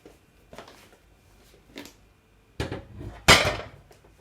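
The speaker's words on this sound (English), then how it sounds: "So now I'm gonna add my macaroni and cheese" Baked macaroni and cheese is spooned into a buttered baking tray. A few soft scrapes and taps are followed by louder clunks of the spoon against the tray near the end, with no talk.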